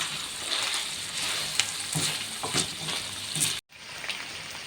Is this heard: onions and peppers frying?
yes